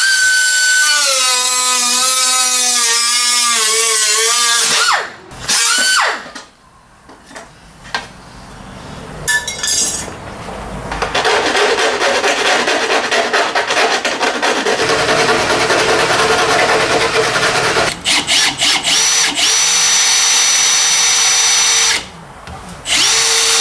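Power drill with a pilot bit boring into metal under the HVAC cowl of a Blue LS-swapped S10 truck, loud and close, starting with a rising whine, then long sustained grinding spells broken by short stops.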